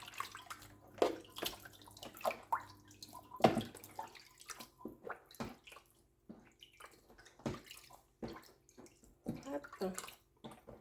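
Water runs and splashes from a kitchen tap while vegetables are rinsed for preserving jars, a faint, uneven gush with knocks and drips, intermittent rather than steady, over quiet room sound.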